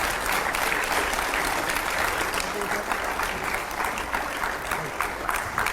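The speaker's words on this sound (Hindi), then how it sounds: "जोरदार तालियों से स्वागत करिए।" A crowd applauds loudly and steadily, a dense wash of clapping that continues without a break.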